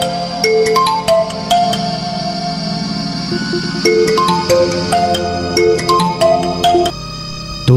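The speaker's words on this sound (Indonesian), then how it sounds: "Dumadakan HP-ne muni nganter." A mobile phone rings with a bright synthetic melodic ringtone, loud and close, repeating its rising tone pattern in three phrases with no talk.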